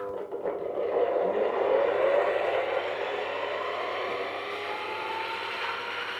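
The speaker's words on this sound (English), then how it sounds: "initially we're just spinning it slowly to balance the load, because they've all got different amounts of honey on, and we don't want the extractor wobbling too much" Honey extractor holding three honeycomb frames spinning slowly to balance the load, a steady mechanical whir and hum that rises briefly and then settles into an even drone.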